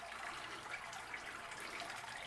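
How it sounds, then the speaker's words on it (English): Wort drains from a Spike Brewing single-vessel brewing system in a faint, steady, continuous watery rush with no talking over it. "So it looks like it's draining pretty good from what I can see there."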